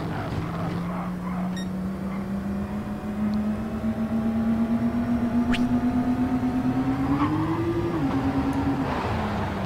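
A race car in GT Sport accelerates down a straight, its engine tone climbing steadily over about eight seconds and then dropping sharply as the driver lifts or shifts, loud and close with road noise underneath.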